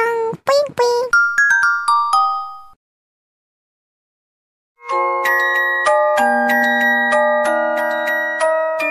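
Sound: WhatsApp notification tone, cute Korean theme

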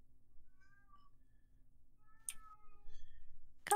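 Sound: cat meowing outside a closed door

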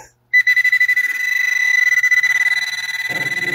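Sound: Garrett Pro-Pointer 2 metal detector signalling on a gold nugget

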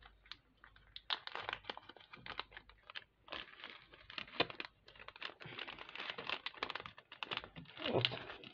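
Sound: crinkling packet of hamarus seasoning

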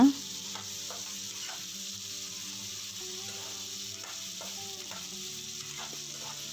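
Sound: poha upma ingredients frying in a pan

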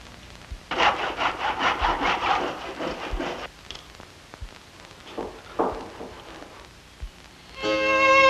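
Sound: sawing wooden spinet key fronts in a miter box

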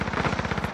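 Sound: gunfire in the video game Call of Duty Warzone

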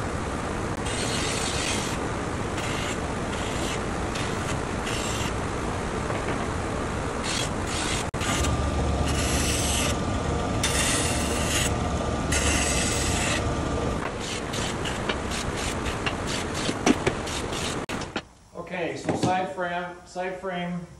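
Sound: flap sanding bevels on wooden cabinet rails

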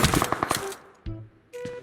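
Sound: gunfire in video game

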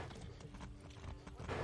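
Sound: horse hooves clip-clopping in video game Far Cry 6

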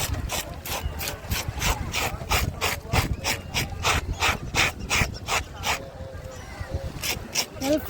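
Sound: fish being cleaned and cut at a fish market

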